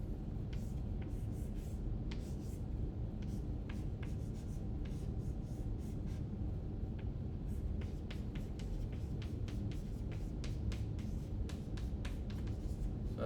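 Marker or chalk strokes on a board while drawing a chemistry reaction scheme: rapid, irregular squeaky scratches over a constant low room hum, with no talking.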